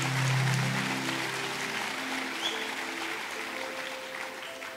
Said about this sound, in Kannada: ಅವ್ರಿಗೊಂದು ಜೋರಾಗಿ ಚಪ್ಪಾಳೆ.